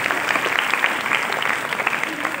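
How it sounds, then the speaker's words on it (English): Dense, steady applause from a large audience at a Teacher's Day celebration, many hands clapping continuously with a faint murmur of voices underneath. "give a big round of applause to all the performers who came onto the stage"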